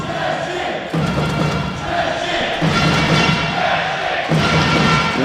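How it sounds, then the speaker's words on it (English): A home crowd at an indoor lacrosse match between the Czech Republic and England keeps up a dense roar, with drums thumping and cheering rising and falling throughout. "the local crowd is working the drums and firing up"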